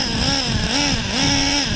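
A Traxxas Revo 3.3 nitro RC truck engine runs loud and close outdoors in a sandy area, a high buzzing whine whose pitch rises and falls in quick revving surges.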